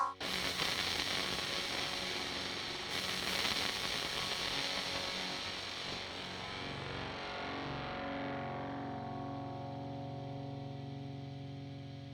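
Residual of a null test pitting a NULL profile against a real Soldano SLO 100 amp: a faint, steady wash of distorted hiss and fizz that thins out and fades over the final seconds, with no talk.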